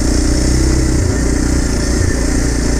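Kawasaki KLX 230 motorcycle engine working off-road, a loud, close, steady drone with the throttle held fairly even and small dips in revs.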